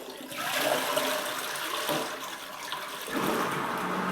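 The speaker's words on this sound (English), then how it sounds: "try to flush it. You can flush it" A Saniflo upflush toilet flushes into its macerator with a loud rushing gush of water, easing off briefly and then surging again near the end.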